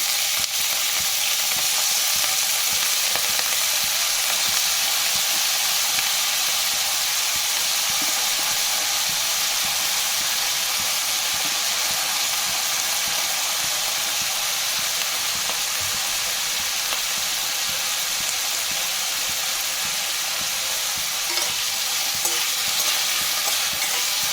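Potatoes frying in hot oil with dried red chillies for a Bengali pui seed fry, a loud steady sizzle and hiss filling the whole stretch, with no talk.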